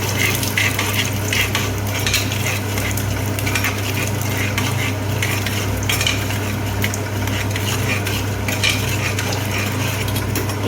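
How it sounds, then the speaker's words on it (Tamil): A spoon stirs a sambar rice upma mixture in a pan, a continuous scraping and mixing sound with a faint sizzle beneath, heard close and steady with no talking. "அதை நல்லா கலக்கி விட்டுக்கணும்."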